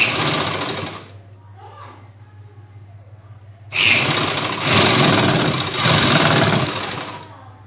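A sewing machine stitching folded lace onto a button-front blouse runs in a loud, steady whir, pauses for a few seconds of quieter handling, then starts again in longer bursts, with a voice talking alongside.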